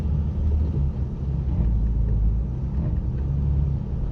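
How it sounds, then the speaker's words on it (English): A Jeep Grand Cherokee WK1 drives through mud offroad, its engine giving a deep continuous rumble close by, with no speech over it. "stupidly just ramming the car into the mud, it got out by itself"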